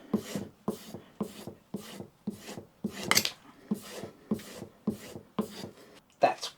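A hand-plane iron is rubbed back and forth on a sharpening stone to polish the blade, about a dozen even, rhythmic scraping strokes, close and clear.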